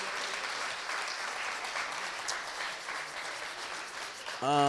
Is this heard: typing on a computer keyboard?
no